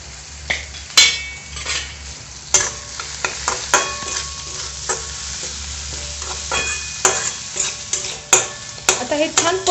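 Ingredients for an okra dish are sautéed in a pan, with a constant close sizzle under frequent scraping and clanking spatula strokes that come in an uneven rhythm, with no voices.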